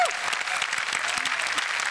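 Loud applause from a studio audience at a Marathi comedy show, dense steady clapping filling the whole moment with some crowd noise.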